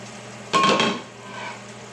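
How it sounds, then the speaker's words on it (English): A spoonful of egusi paste drops into a pot of boiling alkaline egusi soup, giving one sudden clattering knock of the spoon against the pot that fades into soft bubbling. "add our egusi paste."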